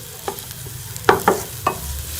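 Sliced onions softening in a pan for samosas: a soft low background sizzle broken by several quick scraping stirs of a spoon against the pan, close by, with no talk.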